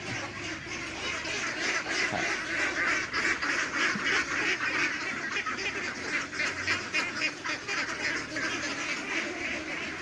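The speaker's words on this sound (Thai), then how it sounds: "ส่วนเป็ดตอนนี้ปล่อยออกไปข้างนอกนะครับ" A flock of egg-laying ducks on a farm quacks continuously and loudly nearby, overlapping calls forming a dense, chattering din without pause.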